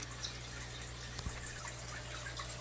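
Water runs quietly and steadily during an aquarium water change in a fish room, a soft continuous flow with a faint drip and a low steady hum underneath.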